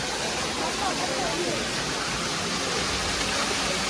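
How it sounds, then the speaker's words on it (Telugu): Water pours down from above at Tirumala, a dense, continuous roaring rush like a waterfall, steady and fairly loud throughout with no clear breaks. "గైస్ వాటర్ చూడు ఎట్లా వస్తున్నాయి పైనుంచి. ఈ పైనుంచి అనేది కింద పడుతున్నాయి చూడండి."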